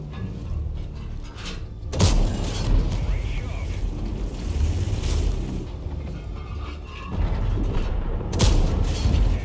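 Tank gunfire and shell impacts in World of Tanks during a Tortoise engagement, including a HESH round: dense rumbling battle noise with heavy booms, loud bursts near the two- and eight-second marks, and continuous engine drone underneath.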